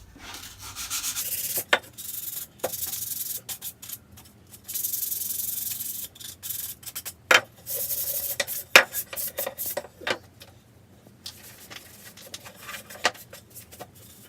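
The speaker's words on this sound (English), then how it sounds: "So you'll have to move that mark with a finer sandpaper." A wooden plank being hand sanded with 240 grit sandpaper gives close, raspy bursts of rubbing strokes in irregular runs, some short and some sustained, with brief pauses between them.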